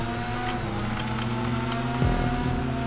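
Race car engine in the Stunt Racing video game, a steady sustained drone that holds near a rev limiter before dropping in pitch near the end, loud and continuous with no talk.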